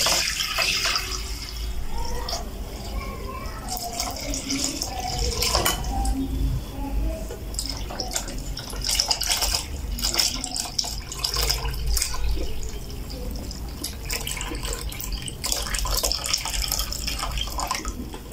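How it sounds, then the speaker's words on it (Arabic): Concentrated homemade carob drink is poured from a pot into a cup in a kitchen, a steady close liquid pour with clinks of dishes and utensils around it. "أول كوباية بقى هصبها"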